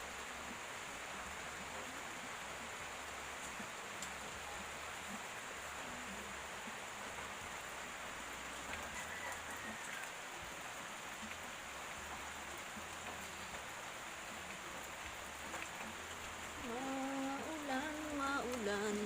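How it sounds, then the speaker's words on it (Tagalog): Steady, heavy rain pours over a rural countryside home on a wet morning, a dense continuous hiss with no breaks, and faint water trickling or dripping sounds rise near the end. "Ayan guys, ang aming paligid, maulan."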